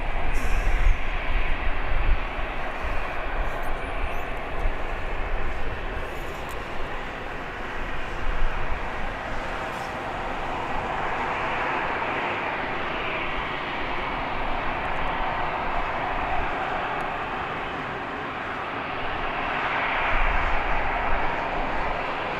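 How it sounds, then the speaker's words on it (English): An easyJet airliner preparing to depart at Birmingham Airport produces a steady, broad engine roar that swells and eases slightly over a long stretch, heard from a distance outdoors without talk. "to have an easy jet getting ready to depart as well."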